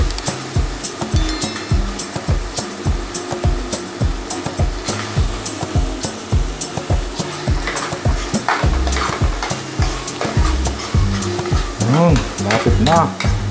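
Aromatics sautéed in a pan for a mung bean stew, with brisk rhythmic stirring strokes scraping the pan about twice a second over a constant sizzle, growing busier toward the end.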